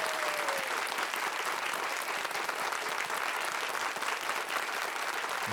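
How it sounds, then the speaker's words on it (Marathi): Sustained studio audience applause on a Marathi quiz show set, steady and dense throughout, no voices over it. "टाळ्या वाजत राहायला पाहिजेत"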